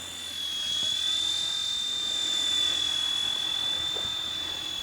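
A small XK WLtoys K127 radio-controlled helicopter hovers outdoors in the wind, giving off a thin, steady high-pitched rotor whine at close range. Wind rumbles underneath throughout.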